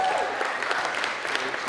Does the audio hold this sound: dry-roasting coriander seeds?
no